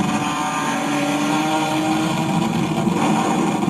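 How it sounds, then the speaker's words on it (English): A BMW M3 fitted with CSL parts drives on crowded city streets, its exhaust a loud, steady, close engine roar that fills the whole stretch without a break, with no voices. "You can hear his exhaust."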